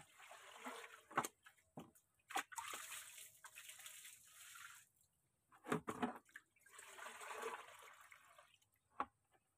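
Water poured in several bursts into an organic NPK fertilizer mix made with rice-based microbial culture, splashing gushes separated by near-silent pauses, fairly faint and heard alone.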